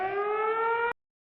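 A kitchen baking timer ringing, a steady electronic tone that holds for about a second and then cuts off abruptly into silence.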